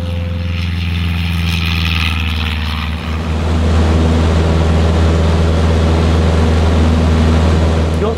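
A Cessna 152 propeller airplane roars loud and close as it takes off and climbs, its steady engine drone shifting to a deeper, fuller pitch partway through as it lifts into the air.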